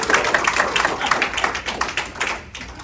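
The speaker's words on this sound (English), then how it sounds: "A round of applause for Baby, everyone." An audience at an International Women's Day speech claps steadily for the speaker's husband, a dense, continuous round of applause that stays close and fairly loud for the whole stretch.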